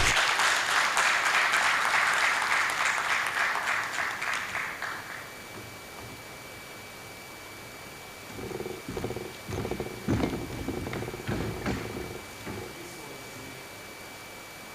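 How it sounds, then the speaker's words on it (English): Audience applause at a technology, security and development symposium, a dense burst of clapping for about five seconds that fades out, followed by faint scattered knocks and shuffling. "then it deserves a louder round of applause"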